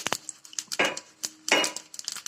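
Sesame seeds crackle and spit in hot oil as tempering with mustard and cumin proceeds in a pan, sharp irregular pops and bursts of sizzle coming in quick clusters, close and clear.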